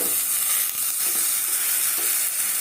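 Green mung bean pancake sizzling in butter and oil over low gas, a dense continuous hissing sizzle, close and steady, with no talking.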